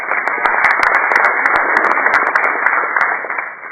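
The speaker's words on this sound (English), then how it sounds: "Let me give them a round of applause for putting this together." Audience at a candidate forum applauding a presenting sponsor, a dense burst of clapping from a room of people that holds steady for several seconds before tapering off.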